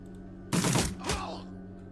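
A quick burst of gunfire from the video game Shadowrun Returns cracks out loudly over a low steady hum, two close bursts fading into a short tail.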